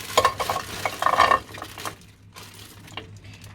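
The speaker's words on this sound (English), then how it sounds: "these guys are just going to get a bit of a head start in the frying pan" A bag of vegetables sizzles and gets stirred in a frying pan, with scraping utensil sounds early on, then a quieter steady sizzle.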